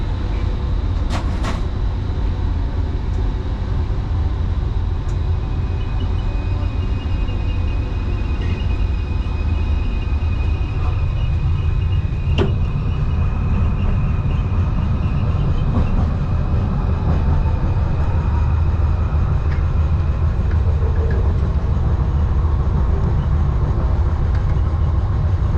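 Onboard an LRT light rail train in Kuala Lumpur, Malaysia, a loud, continuous low rumble of the cars rolling along the track fills the cabin, with faint squeals and a couple of brief clicks.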